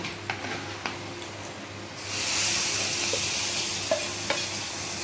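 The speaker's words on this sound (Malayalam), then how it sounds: "നമ്മുടെ അടുപ്പയിലിരിക്കുന്ന സാമ്പാറിൻ്റെ കൂടെ അങ്ങോട്ട് ഒഴിച്ചു കൊടുക്കാം" Liquid poured into sambar on the stove sets off a burst of sizzling that swells partway through and holds as a steady bright hiss, preceded by a few soft clinks and dotted with light taps, close and moderately loud.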